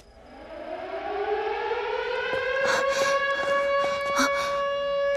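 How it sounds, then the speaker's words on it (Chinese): An air-raid style alarm siren winds up from a low pitch to a sustained, loud wail at night, with faint voices and a few sharp clatters over it. "警报！"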